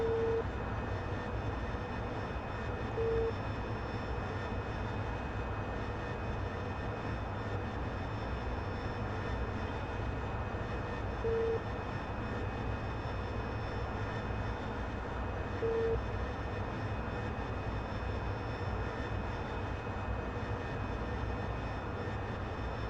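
An AV-8B Harrier at full power in cruise flight makes a steady, unbroken engine roar with a constant whine running through it, loud and uniform with no breaks.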